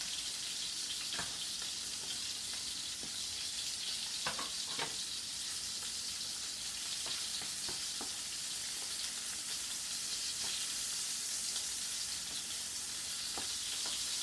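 Hamburger meat and squash sizzle steadily in a frying pan, a dense continuous hiss with scattered soft pops and crackles throughout, no voices.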